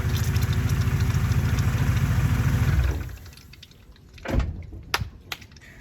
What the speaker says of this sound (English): Gave it a couple of revs just to speed everything up and properly test it